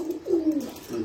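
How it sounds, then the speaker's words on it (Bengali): A pigeon gives a single short, soft coo, fairly close, with a quiet background. "কবুতর সবাই পালে"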